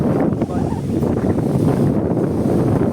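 Steady strong wind gusting across the microphone on open water beside a wooden boat, a constant broadband roar with faint wave wash underneath and no pauses.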